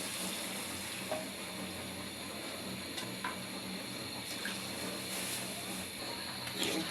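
Steady sizzling and bubbling from a pot of beef liver and potato curry after water is added, with faint clinks and a continuous hiss throughout.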